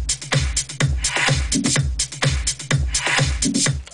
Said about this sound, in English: So the whole drum sounds like this.